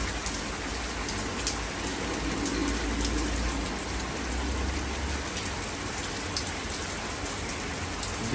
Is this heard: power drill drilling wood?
no